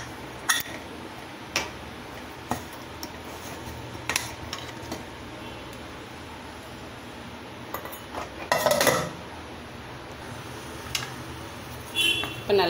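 Tomato biryani is stirred in a cooking pot, with a scattered series of sharp metallic clinks and scrapes of a spoon against the pot and a louder scraping cluster near the end.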